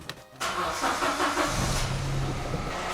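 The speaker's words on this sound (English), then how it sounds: "Engine, start." A three-cylinder Toyota Yaris engine, dusty from sanding and a fire extinguisher, cranks briefly and catches, then settles into a steady, close idle that carries through to the end with no talk.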